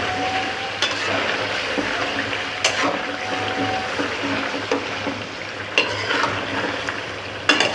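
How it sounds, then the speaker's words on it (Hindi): Tomatoes cook for a chicken charsi karahi with a steady background hiss, as a utensil scrapes and clicks against the pot every couple of seconds. "इस तरह से टमाटर कर लें आप, इस तरह आप पकाते रहें इसको"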